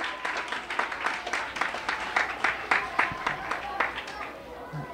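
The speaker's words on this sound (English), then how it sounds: "Another round of applause" An audience at a fire and safety program closing ceremony gives another round of applause, a ragged, rhythmic run of clapping from a modest crowd with distinct individual claps pulsing throughout.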